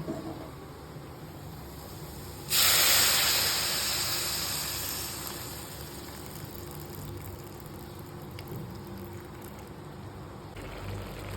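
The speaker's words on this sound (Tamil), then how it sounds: "தண்ணியை மட்டும் இப்போ ஊற்றிக்கிறேன்." Water is poured into a hot pan of fried onions and cooked soaked mochai beans for a traditional tea-stall dish, bursting into a loud hiss that slowly fades to a steady low simmer.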